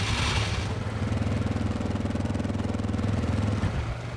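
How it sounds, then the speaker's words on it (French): A motorcycle engine idles in the survival game DayZ with a steady, rapid pulsing throb at a constant moderate level. It is close by and unbroken, with no talk over it. "C'est toi qui as pris la moto là?"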